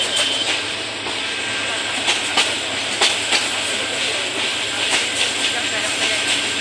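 A train pulling out of Tongi railway junction in Bangladesh, with a steady rumble and hiss and a few soft rail clicks, heard from on board, close and continuous.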